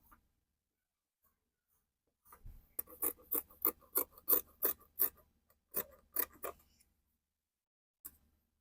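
Sharp scissors snip through fabric in a quick run of about a dozen crisp cuts, then a pause and a few more, reshaping the front armhole of a shirt dress in a quiet room.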